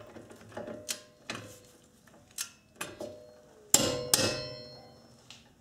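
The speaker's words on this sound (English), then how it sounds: "we'll use a torque wrench to tighten these bolts down to" Tools clicking and clanking while bolts on a Subaru strut are tightened during an EJ25 axle replacement, a series of sharp separate metallic clicks and clangs at irregular intervals, close and fairly loud.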